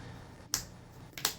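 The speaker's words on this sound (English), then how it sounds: "that was my cat jumping onto the table" Two brief, sharp knocks about three quarters of a second apart, like a cat landing on a tabletop, against a quiet room.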